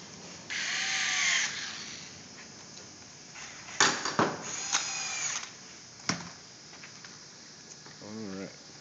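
A power drill drives case screws into the end of a Zip Dee window awning in a factory, heard as a sustained whir followed by several short, sharp bursts, fairly close, with talk in between.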